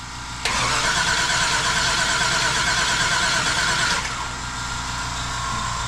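A 1966 Chevrolet Impala engine cranks with the gas pedal pumped, a loud, steady, continuous churn that starts abruptly and runs for about three and a half seconds before dropping to a lower background rumble.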